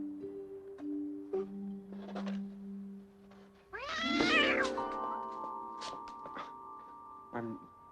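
A pet cat meows several times in a quiet room, short calls followed by a longer rising, wavering cry, with people talking around it.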